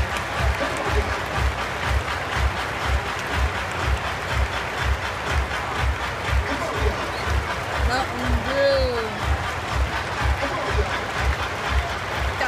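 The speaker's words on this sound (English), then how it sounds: "Everybody clap your hands." A crowd at a Twins baseball game claps in a steady rhythmic beat, many hands together, with voices and a few whistles mixed in over the clapping.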